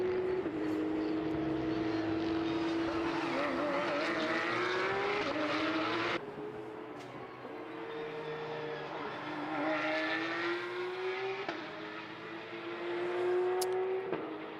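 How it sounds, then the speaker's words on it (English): Porsche Sports Cup Suisse race cars roar down the start-finish straight at the Red Bull Ring, with loud, continuous engine notes rising and falling as the cars pass close by one after another. "still just hearing the roars of these cars coming across the start-finish straight"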